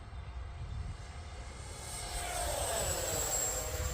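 A FlyFans twin 64mm electric ducted-fan Su-27 Flanker RC jet passes down a runway, its high-pitched turbine whine steady and loud, rising and sweeping in pitch as it draws nearer.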